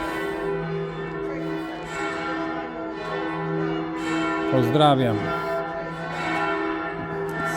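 Church bells at Santo Spirito ring out with sustained, overlapping tones, fairly near, while someone speaks briefly in Polish over them.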